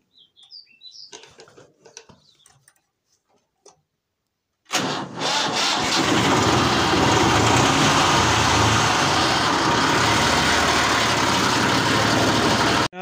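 A Hindi-speaking village owner's tractor, model 260, on a rural farm: after a few seconds of quiet with birds chirping, the engine cranks and catches abruptly, then settles into a loud, steady close-up idle.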